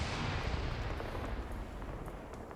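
Gunfire rattles against a tank turret in a military video game, a dense continuous barrage of close, loud impacts and rumbling bursts with no pauses.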